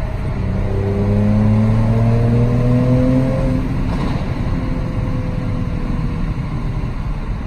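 A Mercedes C43 AMG engine revs loudly up close, pitch climbing in rising sweeps before settling into a steady powerful drone.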